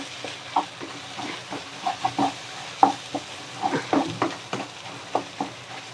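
A spoon stirs turmeric and chili powder into a chicken and vegetable cutlet mixture in a pan, giving repeated scraping strokes over a soft, steady sizzle, close up and unhurried.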